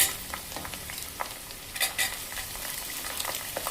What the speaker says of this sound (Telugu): ఇప్పుడు ముందుగా కడిగి ఉంచుకున్న చిక్కుళ్ళు వేస్తున్నాను.